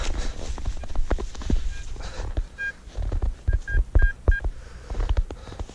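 Short electronic beeps from a metal detector sweeping for relics along an old road, sounding in a quick broken series of pulses over rustling ground noise and footsteps.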